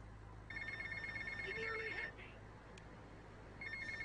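A mobile phone ringing in the video game GTA Vice City, an electronic ringtone that trills for about two seconds and starts again near the end, fairly faint over a steady low game hum.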